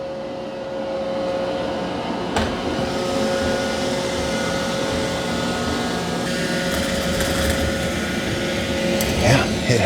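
An iRobot Roomba j6+ robot vacuum works across the floor, moving from hardwood onto carpet, giving a steady whirring hum with a constant high whine and a few brief knocks; people talk faintly over it.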